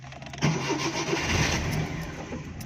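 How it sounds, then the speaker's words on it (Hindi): A Suzuki Mehran car that won't start in the morning cranks and fires up close by, its engine catching after a brief starter whir and then settling into a steady, rough idle with no talking. "अब हम इसकी गाड़ी को स्टार्ट करके"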